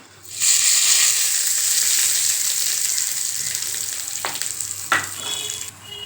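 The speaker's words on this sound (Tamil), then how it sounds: "ஒரு ரெண்டு வரமிளகாய் கொஞ்சம் பெருங்காயம் கொஞ்சம் கருவேப்பிலை அவ்வளோதாங்க தாளிச்சாச்சு இப்போ இந்த சட்னியில் ஊற்றிடலாம்" A hot tempering of red chillies, asafoetida and curry leaves is poured into roasted onion chutney and bursts into a loud, close sizzle. The sizzle slowly settles, with a couple of clinks of a spoon or pan.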